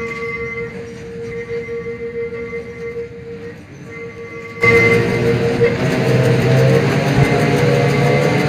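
A Vienna tram in the OMSI 2 simulator idles with a steady electric hum, then abruptly starts driving off into a loud, broad rolling rumble that continues steadily.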